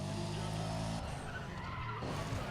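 A rallycross car skids and slides on a banked track in Need for Speed ProStreet, a steady loud tire squeal over a roaring engine that shifts about halfway through.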